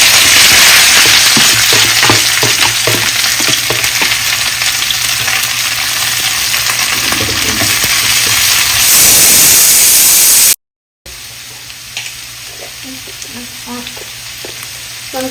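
Onions, chillies and curry leaves sizzle loudly in a hot pan with occasional stirring scrapes; after a brief break the frying continues more quietly.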